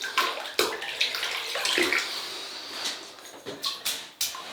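Water splashing and running as a wet shaving brush is soaked before building lather in an Anvil Pottery bowl, a close, bathroom-like wash of water with a few sharper splashes and drips.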